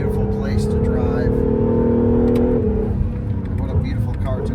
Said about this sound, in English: Those downshifts are intoxicating. Motorsport downshifts.